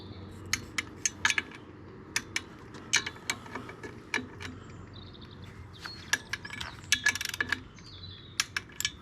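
Ratchet clicks from tightening the clutch bolts on a Peugeot 104, sharp bursts of rapid ticking in uneven groups, close and distinct over a quiet workshop background.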